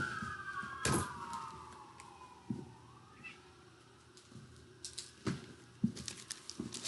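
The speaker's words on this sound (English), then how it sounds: "A lot of people don't hear sirens in their life." A police siren outside wails faintly in the distance, its tone sliding slowly downward, while scattered nearby knocks and clicks break the quiet indoor room.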